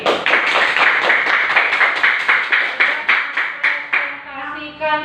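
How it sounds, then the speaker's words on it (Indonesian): A school class claps for a student group in a classroom: loud, close, evenly rhythmic claps in unison that thin out and fade near the end as a voice begins. "Tepuk tangan untuk kelompok Putri"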